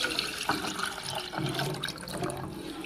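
Milk poured into a pan for chicken lasagna, a continuous liquid splashing and gurgling pour, close and moderately loud, with no talking.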